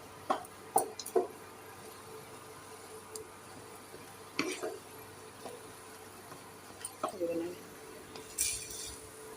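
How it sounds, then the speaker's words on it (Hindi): Chopped almonds stirred into a paste in a non-stick kadhai, with sparse spoon clicks and scrapes against the pan that come in small clusters over a quiet, faintly humming background. "डाल लूँगी मैं यहाँ पे बादाम के छोटे किए हुए टुकड़े, इनको भी मैं इनके साथ मिक्स कर लूँगी"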